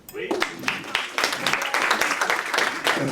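An audience at a comedy open mic night in a small venue breaks into close, lively applause, with dense clapping bursts and voices mixed in.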